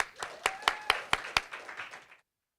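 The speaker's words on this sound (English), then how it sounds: "Please give them a round of applause." Short burst of audience applause for panel speakers at a live health conference, a handful of distinct claps standing out over a smaller crowd before stopping abruptly.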